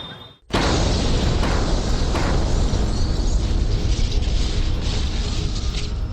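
A bomb explosion sound effect for a crime reconstruction of a blast in a crowded Delhi area, starting after a brief quiet with a sudden loud boom and then a long, heavy rumbling roar that holds steady without fading.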